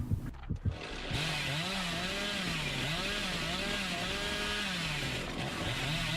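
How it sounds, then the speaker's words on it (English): Chainsaw in the Dead by Daylight video game revving continuously, a loud droning engine with a wavering pitch that rises and falls, close and dominant after a brief burst of rustling at the start. "That was Apex, who nearly ran into that chainsaw."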